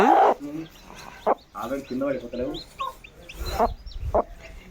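Hens cluck in short bursts close by, with voices talking over and between the calls.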